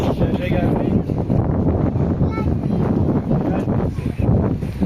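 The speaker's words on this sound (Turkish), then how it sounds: "Ama çok dalga var. Çok rüzgar esiyor." Strong wind roars against the microphone with a constant rushing wash of waves beneath at Alaçatı beach in Çeşme, while people talk over it.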